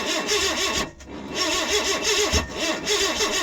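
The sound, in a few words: Suzuki APV engine backfiring while starting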